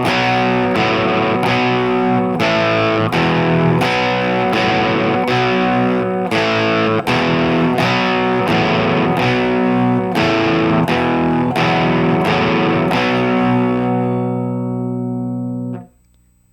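Distorted electric guitar hammers out a song's chorus as a run of steady, evenly spaced power-chord stabs, loud and sustained, with the final chord ringing out before it is cut off.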